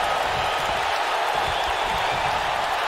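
Steady roar of a capacity arena crowd in a Ronda Rousey vs. Chyna wrestling video game match, a dense continuous wash of cheering with no breaks across the whole stretch.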